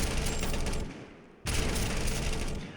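Sustained automatic fire from a compensator-fitted gun in the game TABG, a loud continuous rattle that breaks off briefly and then resumes just as hard.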